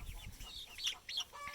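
A farm chicken clucks in a few short, bright bursts close by, with soft low thumps at the start and no talking.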